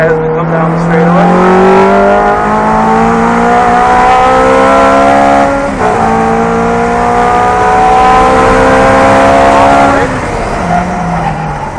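A race car's engine pulls hard under power down a straightaway, its rising whine climbing steadily for several seconds, dipping briefly at a shift, then climbing again, loud and close, with a voice talking over it.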